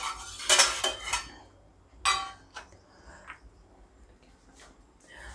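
A utensil stirs melting chocolate in a pan over low heat in a home kitchen, making a few clinking scrapes against the metal that are loud at first, then quieter, intermittent taps and scrapes.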